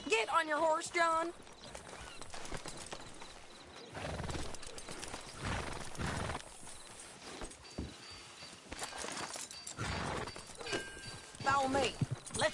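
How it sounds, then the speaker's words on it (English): Horses' hooves clip-clopping during a ride in Red Dead Redemption 2, steady rhythmic hoofbeats with a couple of whinnies and snorts, heard under ongoing conversation between characters. "Get on your horse, John."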